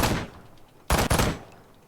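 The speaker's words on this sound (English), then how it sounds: "we shot him 4 times in the head" Gunfire in a video game: one burst at the opening, then two sharp, loud shots in quick succession near the middle, with quieter fading tails between them.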